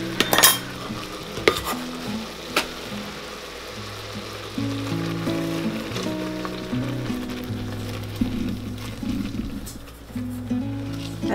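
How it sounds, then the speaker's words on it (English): Boiling blackberry jam being stirred in a pot as sugar is added, with a bubbling sizzle, a spoon scraping and clinking against the pan, and sharp knocks up close. "since this is boiling really good, it's been about a minute, I'm gonna go ahead and add in the 2 cups of sugar"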